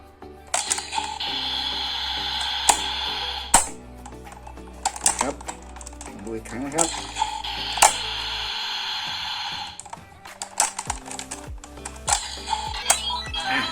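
Clicks, snaps and short plastic rattles repeat as a small DX Rabbit Tank Sparkling Full Bottle toy is handled and opened, playing random sound effects, with talking over parts.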